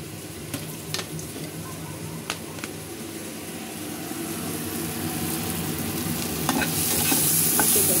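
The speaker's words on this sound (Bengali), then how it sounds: "চিংড়ি মাছ ভাজা প্রায় হয়ে গেছে," Prawns sizzle in hot oil in a frying pan, a steady crackling fry with occasional scraping stirs and clicks, growing slightly louder toward the end.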